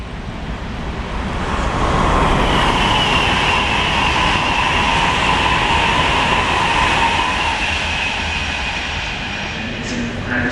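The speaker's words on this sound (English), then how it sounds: "there we go, another freight" A freight train rumbles past on a British main line, a long, steady roar of wagons and wheels building over the first seconds and holding loud for about ten seconds before easing slightly.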